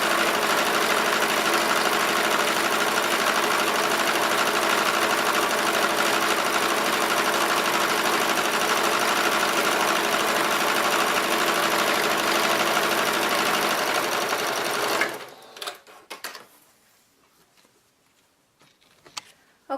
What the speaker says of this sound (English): once you have your fabric sewn to your ribbon